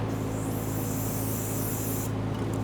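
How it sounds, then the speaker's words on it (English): Continuous hissing spray from an aerosol can of solvent onto a fuel tank connector on a Nissan Frontier, steady and fairly loud, cutting off near the end, with no speech. "go ahead and spray it down with some solvent"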